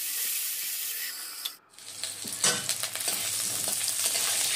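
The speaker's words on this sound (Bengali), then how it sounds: "এরকম করে লাল লাল করে মাছগুলো ভেজে নিচ্ছি।" Rohu fish pieces fry in hot oil with a steady, close sizzle and crackle, briefly dipping quiet before spattering louder bursts resume as the fish is stirred.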